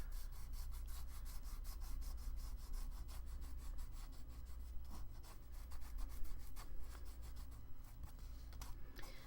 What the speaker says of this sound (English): now I'm just gonna burnish it with my finger